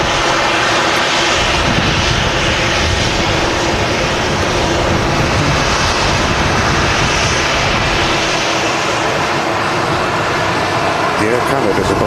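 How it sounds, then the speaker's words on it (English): Air Canada airliner engines roaring steadily at Manchester Airport as the jet lines up on the runway, a loud continuous drone with a voice talking over it. "Air Canada's about to line up with the ILS now"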